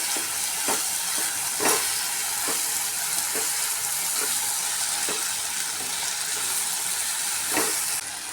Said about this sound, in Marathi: अर्धा चमचा अद्रक लसूण पेस्ट टाकते, परत व्यवस्थित आपण हे परतून घेऊया।